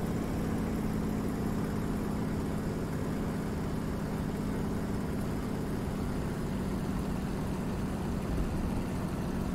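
Piston engine of a Spitfire Mk IX in a DCS World flight simulation, a steady low droning hum at modest volume, throttled back during landing and holding an even rumble without sharp changes.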